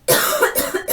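A single sharp cough bursts out, followed by a few rougher, hacking coughs in quick succession, close and fairly loud.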